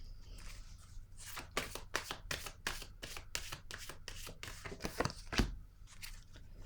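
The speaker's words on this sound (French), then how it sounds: "Je vais déposer une carte ici." Tarot cards on a table give a quick run of rapid, crisp papery flicks. A slightly heavier slap follows as a card is set down, close and quiet, with no voices.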